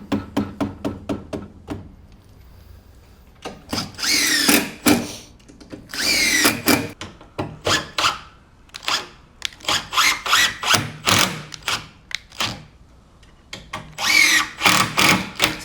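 A power drill drives screws into a plywood ramp, whirring in repeated short bursts with the motor revving and stopping, close and loud, with knocks and clatter of wood between the runs.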